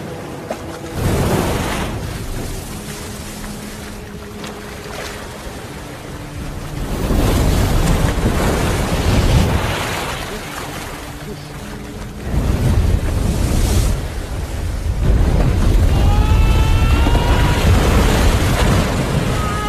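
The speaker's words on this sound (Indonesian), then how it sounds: "kuatnya ombak membuat perahu karetnya terbalik dan pecah" Strong ocean surf crashes over and over, loud and close, as heavy waves surge in broad roaring swells with wind buffeting the microphone and no voices.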